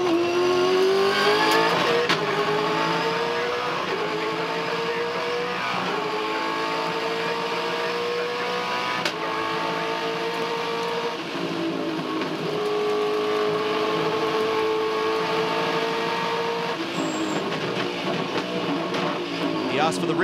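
Engine of a Supercars race car at the Adelaide 500 in 2012, heard through the onboard radio, revving and shifting through gears in steady rising and falling sweeps, loud and continuous, with radio talk over it.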